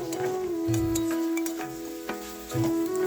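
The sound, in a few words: stirring and frying cauliflower and potatoes in a pan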